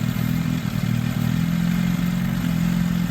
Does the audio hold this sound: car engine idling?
yes